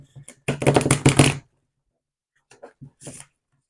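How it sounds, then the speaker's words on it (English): Tarot cards being shuffled by hand: a dense, rustling riffle burst lasting about a second, followed after a pause by a few short, quieter card flicks and taps, close to the microphone. "That was not a beautiful shuffle."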